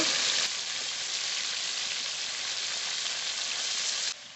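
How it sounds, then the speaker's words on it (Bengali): Ritha fish sizzles and crackles loudly in hot oil in a pan, a steady, dense hiss lasting throughout with no talking. "মাছ ভাজা হতে থাকুক"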